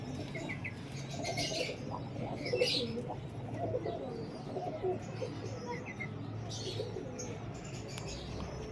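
Pigeons coo in a loft, giving soft repeated low throaty calls close by over a busy background of chirps and fluttering wings, with no one talking.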